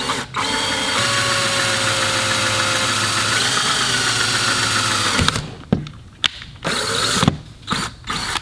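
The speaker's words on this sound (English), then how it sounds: "Drill the plastic." A steady drill whirs through plastic for about five seconds while fitting a nitrous kit to a 2015 Corvette, then stops, followed by a few short knocks and handling noises.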